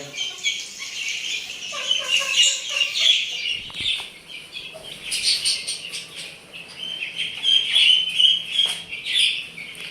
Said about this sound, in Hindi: हमारा गंजा मुर्गा भी बाहर आ गया